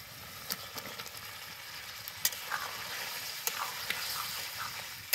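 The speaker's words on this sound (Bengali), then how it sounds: "তো এখন ভাজা আলুগুলো দিয়ে দিব।" Steady sizzling of fried small potatoes in a pan for aloo dum, with scattered crackles and pops and occasional stirring scrapes, close and moderately loud, with no talking.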